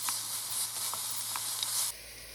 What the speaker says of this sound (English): I'm going to drop in our cumin seeds, our chilies, and some onions.